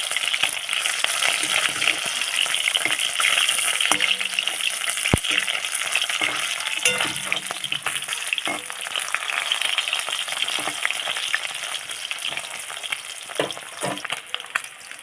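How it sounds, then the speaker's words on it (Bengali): Shol (snakehead) fish frying in a pan of hot oil for a mango-sour curry, a dense, steady crackling sizzle that holds loud and close throughout with occasional stirring knocks. "মাছগুলো ভালো করে ভাজতে হবে"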